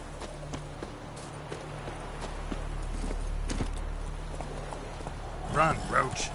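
Roach the horse gallops in The Witcher 3, rhythmic clip-clop hoofbeats running steadily under game music and ambience, with a voice speaking briefly near the end.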